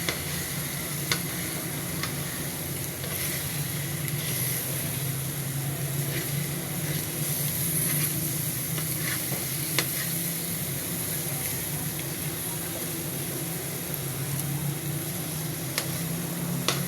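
Two eggs sizzle in hot ghee, a steady, close, crackling fry that runs unbroken for the whole stretch with a few faint clicks on top and no voices.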